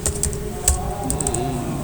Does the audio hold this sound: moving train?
no